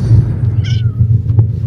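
A house cat gives one brief, fairly quiet meow against a rumbling low background, with faint thumps after it.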